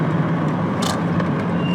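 A 30-year-old rear-wheel-drive Volvo with a 110-horsepower engine accelerates, a steady, droning engine note heard from inside the cabin with constant road rumble.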